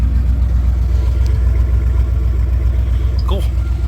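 Ford 5.8L 351 V8 in a 1985-1997 truck idling with a steady low rumble throughout, close by, with a few brief higher chirps near the end.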